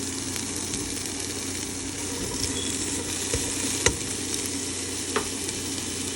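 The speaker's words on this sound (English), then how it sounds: "So now it's time to add our vegetables to the pot." Steady, dense sizzling of bell peppers and onions frying in a pot for beef stew, with a few sharp clinks and stirring knocks breaking through the continuous crackle.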